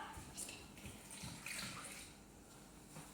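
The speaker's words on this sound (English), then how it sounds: "add 100 grams of water into that" Water pours steadily into a bowl on a scale for a sourdough pre-ferment, a soft continuous splashing trickle heard up close and fairly quiet.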